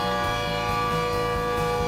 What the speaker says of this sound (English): A continuous siren warns you of a fire in a process plant and sounds like this.